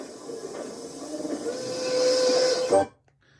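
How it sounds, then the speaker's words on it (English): A hissing steam locomotive whistle from a Thomas the Tank Engine cartoon builds gradually, holds a bright steady tone, then swells briefly before cutting off abruptly into near silence. "That's Duncan's whistle."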